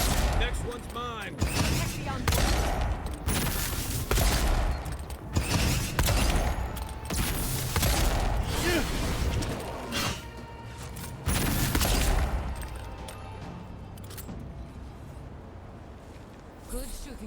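Pistol gunfire in Avowed, with repeated sharp shots scattered through a noisy fight alongside creaking, mechanical clatter and talking.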